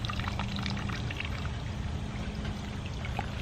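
Water poured out of a brass cleaning bucket holding pins after brass cartridge cleaning, a steady close splashing pour that continues throughout.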